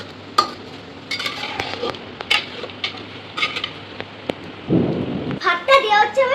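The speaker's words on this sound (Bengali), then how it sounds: "হ্যাঁ, চিকেনটাতে এবার ভালোভাবে নাড়াচ্ছে।" Chicken being stirred for biryani in a pot, with scattered short scraping and clattering strokes at an irregular pace, followed by a brief sizzle near the end.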